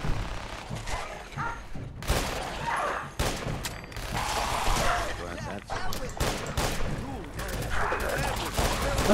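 Gunfire from shooting ghouls in the video game Fallout 4, with irregular bursts and single shots cracking over a dense, busy mix of in-game noise, loud and close throughout, with a voice talking at times.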